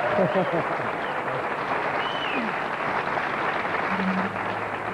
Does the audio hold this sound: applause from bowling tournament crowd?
yes